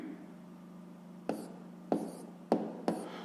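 A pen writes on paper during a fifth-grade maths exercise, heard as four short, distinct scratchy strokes spaced about half a second apart over a low steady hum, with no talking.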